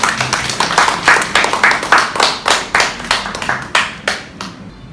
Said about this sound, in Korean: 먼저 큰 박수로 받아주시기 바랍니다.